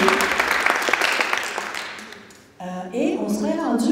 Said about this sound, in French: on peut mettre une main d'applaudissement aux gens qui nous ont produit